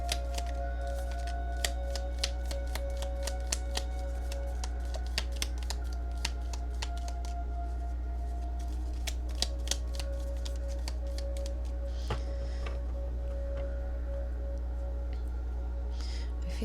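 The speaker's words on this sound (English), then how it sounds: "feel like these shuffle better this way, so I'm going to go ahead and do it this way" Tarot and oracle cards riffled and shuffled by hand in rapid, crisp flurries of flicks, close and fairly quiet above a constant low background hum.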